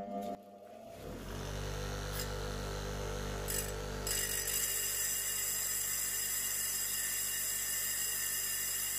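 A cordless drill spins steadily at close range to sharpen tungsten electrodes in a steel gate fabrication shop, starting with a short burst and then holding a loud, continuous high whine to the end.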